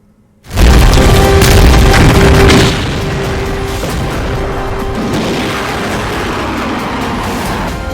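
Weapons fire at the Pokhran field firing range during the Bharat Shakti tri-service military exercise: a sudden very loud boom erupts and then settles into a sustained roaring rumble that fills the rest of the clip, with no voices.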